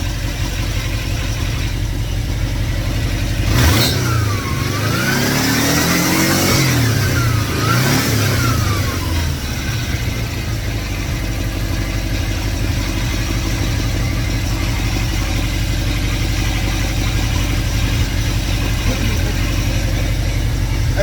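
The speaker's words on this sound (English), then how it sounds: "As the engine's warmed up, the idle's gotten higher." Freshly built engine with a Bernie Bergmann high-flow fan shroud, revving up twice in quick succession near the start, then settling into a steady, loud idle that runs on alone.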